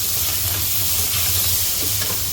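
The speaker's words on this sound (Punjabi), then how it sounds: "ਪਿਆਜ਼ ਥੋੜਾ ਜਿਹਾ ਸੇਕ ਹੋਰ ਲਵਾਉਣੇ ਆ ਥੋੜੀ ਦੇਰ ਲਈ" Onions frying in a pan while cooking bitter gourd (karela), a steady broadband sizzle with a low hum underneath, continuous and fairly close, with no voices.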